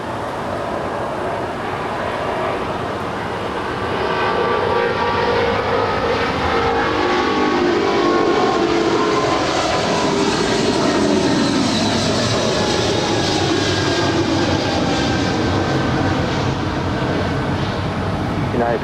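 Jet airliner taking off from runway 25 left at LAX, a loud, sustained roar that builds and then holds, with people talking over it.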